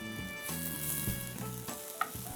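Onions with a pinch of salt sauté in a non-stick pan, giving a steady, close sizzle and frying crackle, with a few soft clinks of stirring.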